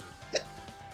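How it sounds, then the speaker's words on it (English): A single short hiccup from a man during a Paper Mario: The Origami King playthrough, one quick burst standing alone against a quiet background. "me with hiccups all of a sudden"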